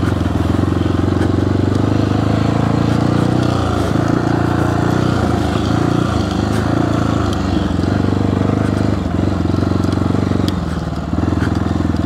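A 1994 Honda XR650L motorcycle rides a lap around an old motocross track, its engine droning loudly and continuously nearby with shifting throttle and clatter, with no talking.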